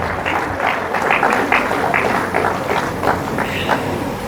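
Audience at a university colloquium keeps clapping, a sparser, rhythmic patter of hands with a few distinct pulses, moderately loud and steady throughout.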